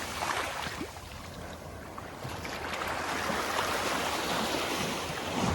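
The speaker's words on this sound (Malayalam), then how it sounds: "ചെറുതായിട്ട് ഇങ്ങനെ കരയിലെത്തുമ്പോൾ ഈ ഓളങ്ങളൊന്നും ജസ്റ്റ് ഒന്ന് കരയിലേക്ക് കയറുന്നല്ലാതെ" Sea waves wash steadily onto a beach in a continuous broadband roar, with wind buffeting the microphone and no speech.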